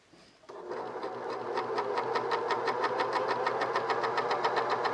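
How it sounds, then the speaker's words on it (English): A sewing machine starts up after a brief quiet moment and stitches steadily, its rapid rhythmic needle clatter close and even, running alone for several seconds. "All right, let's sew a little tiny bit."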